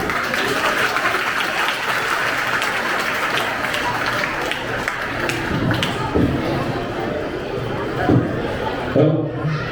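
An audience at a stage event claps in sustained applause, a dense crackle of many hands, with voices mixed in near the end.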